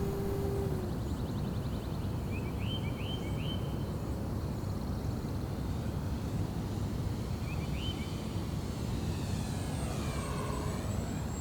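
An RC FG-1 Corsair model airplane, an EPO foam warbird with a 990mm wingspan, holds a steady, loud engine drone at power throughout a flying pass, with faint bird chirps breaking through now and then.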